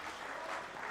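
Crowd applause at a women's darts World Trophy event as a player leaves the stage, a faint, even wash of distant clapping that runs without a break through the whole brief moment.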